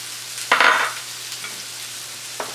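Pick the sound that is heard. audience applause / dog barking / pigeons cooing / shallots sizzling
shallots sizzling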